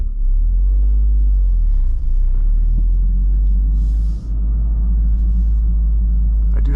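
A lowered Toyota GR Corolla's engine rumbles deep and steady as it is put into gear and pulls away, heard close from inside the car.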